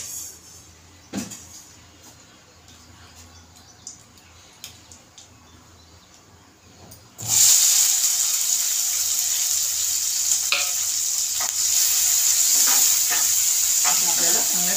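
Onion hits hot oil in a pan for a dry prawn curry, starting a loud, steady sizzle that continues to the end after a quiet stretch with a few light knocks.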